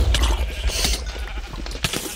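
Sheep bleating in a zombie apocalypse video game map, a few short nasal bleats rising over a steady low rumble of game sound, close and fairly loud.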